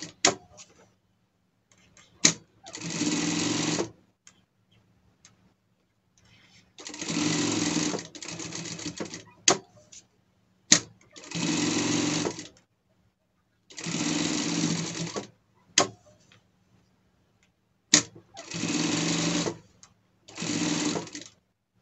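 A sewing machine stitching a seam on a costume runs in repeated bursts of about a second or two each, separated by quiet pauses and sharp clicks, close and clear.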